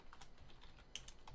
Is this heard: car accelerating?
no